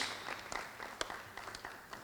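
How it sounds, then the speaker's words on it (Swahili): Audience at a Zanzibar investment gathering applauding their leaders, a faint, distant patter of scattered clapping with a few sharper claps standing out. "hebu wapigieni makofi viongozi wetu."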